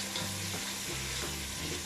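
Eggplant bhurta frying in hot oil with cumin, onion and tomato, a steady loud sizzle filling the pan with faint stirring shifts throughout, no voices.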